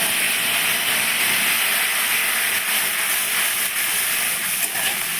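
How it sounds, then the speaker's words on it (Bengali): Tomato paste, green chili and ginger fry in hot oil, giving a dense, steady sizzling hiss that stays loud and close without a break. "এবার আমি বেই পেস্ট করা টমেটো কাঁচা লঙ্কা আর আদা তেলে দিয়ে দিচ্ছি"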